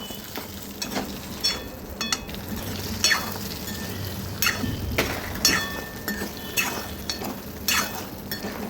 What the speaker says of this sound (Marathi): चमच्याने मी कंटिन्यू हलवतच राहणार आहे, कारण की खाली करपायला नको म्हणून आणि चिकटते म्हणून